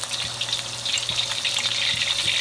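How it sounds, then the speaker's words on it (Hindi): Ginger garlic paste fries in a spoonful of oil in a Chinese wok, giving a steady, close hiss and sizzle with a few light stirring scrapes and no talking. "इसको हल्का सा हम करेंगे फ्राई"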